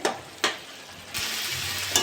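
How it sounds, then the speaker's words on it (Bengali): Bathua leafy greens with potato, broad beans and brinjal sizzle in a pan while being stirred, with sharp scraping strokes at intervals over a steady hiss, close up. "শাকটা একটু নেড়ে চেড়ে একটু ভাজা ভাজা করবো"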